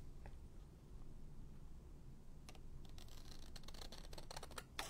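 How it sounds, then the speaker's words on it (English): Scissors snip along the edge of an acetate sheet on a junk journal page, a run of sharp, close, dry cuts clustered near the end over a quiet room. "I'm just going to trim off the acetate on the edge"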